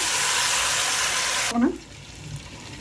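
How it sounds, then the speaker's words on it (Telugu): Ground onion and tomato paste fries in oil for a Godavari-style fish curry, giving a loud steady close sizzle that cuts off abruptly partway, followed by a brief clunk and quiet. "ఇది ఇప్పుడు పచ్చివాసన పోయేంత వరకు బాగా ఫ్రై చేసుకోవాలండి."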